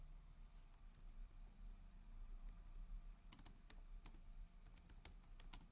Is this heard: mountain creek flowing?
no